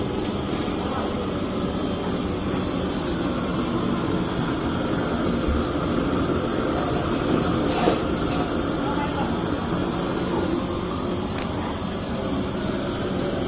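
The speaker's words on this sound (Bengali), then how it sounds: "এই যে জলটা ফুটে ফুটে উঠছে, ভাপ উঠছে, এই ভাপেই বসাবো" Water boils in a pot with steam rising for steaming pitha, a steady broadband hiss and faint bubbling that holds even and unbroken from start to finish at moderate loudness.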